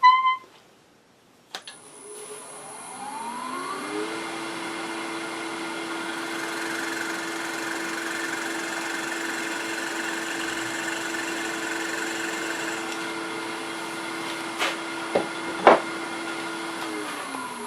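A steady motor whine hums for most of the clip as a depth drill bores into a wooden bowl blank on a lathe, with a few sharp knocks near the end.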